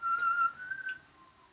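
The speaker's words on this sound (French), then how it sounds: "Le sifflement, lui, contraste un petit peu avec la tonalité plutôt angoissante de la scène." Someone whistles a short tune in a tense film scene, a clear, fairly loud pure melody of a few held notes that fades out, alone without talk.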